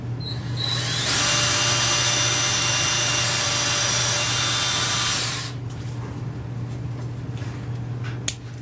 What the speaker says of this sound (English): So first, we drill a small hole.